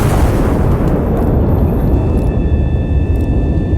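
Artillery gun in Iron Nest firing a shell: a loud, sustained rumbling blast with broadband roar filling the whole stretch, fading slightly toward the end with a faint high whine.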